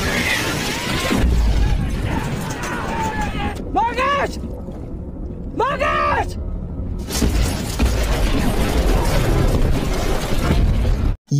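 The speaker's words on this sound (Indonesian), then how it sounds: "hancurnya 1 helikopter bantuan ini dihantam rudal" A missile strikes a rescue helicopter in a war-zone film: a loud, chaotic roar broken by brief lulls, then a heavy explosive crash and rumbling debris noise.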